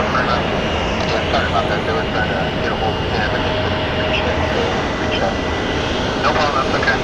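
A Southwest Airlines Boeing 737-700 at Phoenix Sky Harbor airport produces a loud, continuous broadband jet engine roar, with voices faintly present underneath.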